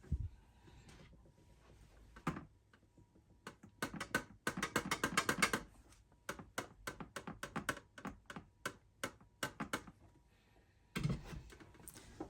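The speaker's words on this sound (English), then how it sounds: "I know you're not really supposed to shake an iMac, but there's something rattling around inside of it." Loose part rattling inside a shaken new iMac, irregular bursts of small clicking and clattering knocks with quiet gaps and a couple of heavier thumps, close and alone.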